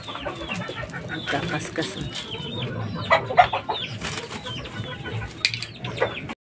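Gamecock chickens on a farm cluck and crow in a busy, continuous mix of nearby bird calls, with a person speaking briefly over them.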